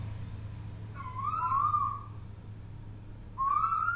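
A Tuwu owl, a hand-raised bird kept in a cage, gives two hooting calls separated by a pause, the second cut short at the end, over a low steady background hum.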